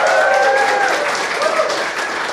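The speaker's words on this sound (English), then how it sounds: "Big round of applause." A crowd at an evening panel event applauds steadily, dense close clapping that holds nearly level and tapers slightly toward the end, with a faint voice briefly over it.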